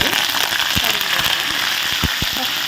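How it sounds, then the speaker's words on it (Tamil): Dense crackling and sizzling of mustard seeds and urad dal spluttering in hot oil, with sharp pops scattered through a constant hiss, close up. "கடுகு உளுத்தம்பருப்பு ரெண்டும் போடுங்க நல்லா வெடிக்கட்டும்"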